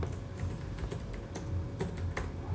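Steady clicking of keys on a computer keyboard while entering text in a Microsoft Word document, quick irregular taps with short pauses, close and fairly quiet, with no voice over it.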